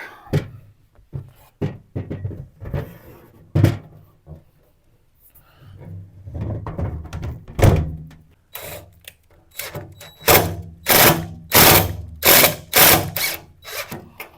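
Power driver sinking screws while an RV instant hot water heater is installed, close bursts of whirring and ratcheting in uneven spurts, growing denser and louder toward the end, with scattered clicks and handling noise between.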